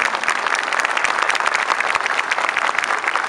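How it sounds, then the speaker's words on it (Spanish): Audience applause at a Catholic pastoral gathering marking fifteen years of evangelization at a university, a dense, steady wash of clapping that stays loud and even throughout, with no voices over it. "También un aplauso,"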